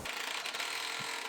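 A ratchet bolting a plastic front skid plate onto a rolled-over Chevrolet Silverado, heard as a quick run of dense, close ratcheting clicks over a steady background hiss, with no voices.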